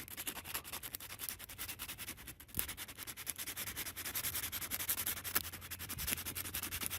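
Sandpaper scrubbing rust from damaged car paint down to bare metal, a steady close-up rasping rub that runs continuously throughout without talk.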